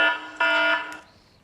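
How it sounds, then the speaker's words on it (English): An alarm sound effect added to a recording: a harmonic, buzzing electronic tone sounds in two loud bursts, then fades to a thinner high whine before trailing off, with no talking. "an alarm playing in the background, hopefully"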